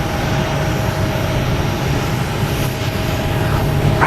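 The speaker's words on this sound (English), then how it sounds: "Next to arrives American Airlines A321 Neo coming in from Phoenix." An American Airlines A321neo arriving at Boston Logan Airport, a steady, fairly loud jet engine roar with a faint whine throughout, close and continuous.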